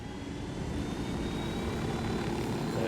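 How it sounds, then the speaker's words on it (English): A helicopter flying in the video game Ghost Recon Wildlands, heard as a continuous, even engine and rotor drone with no talking. "We'll take the helicopter for a spin"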